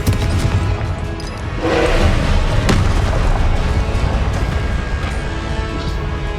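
Blasting spell explosion in the Hogwarts Legacy video game: dense, rumbling game combat with a loud boom swelling near the two-second mark and a sharp blast soon after, over continuous battle noise.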